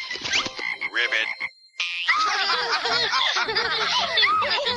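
Cartoon frog croaking in bursts of loud, bubbly, throaty croaks, close and busy, with a brief silence near the middle before the croaking resumes.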